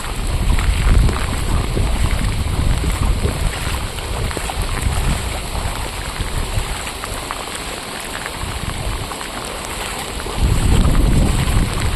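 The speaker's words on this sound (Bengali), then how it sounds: "খুব বিপজ্জনকভাবে এখান দিয়ে জল যাচ্ছে" Continuous loud rush of floodwater flowing fast across a road after heavy rain in Chittaranjan, with wind buffeting the microphone, a dense, unbroken outdoor roar throughout.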